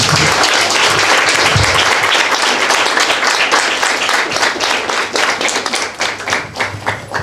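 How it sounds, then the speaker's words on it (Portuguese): Sustained loud audience applause at a book launch, dense clapping from many hands throughout, gradually thinning into more distinct individual claps toward the end. "Então esse momento é de celebração mesmo. Uau, palmas."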